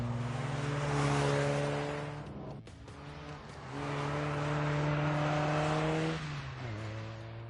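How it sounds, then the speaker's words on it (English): Car engine in The Grand Tour video game revving hard at high revs, rising and holding with a brief dip mid-way before climbing again, loud and continuous with no talk. "That's quite high revs."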